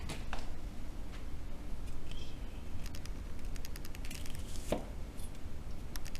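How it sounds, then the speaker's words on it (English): A knife cuts through cinnamon sugar pumpkin pull-apart bread with a string of soft, uneven chopping taps over a steady background hiss, and one sharper knock comes near the end. "So you're cutting them up in 6 different pieces."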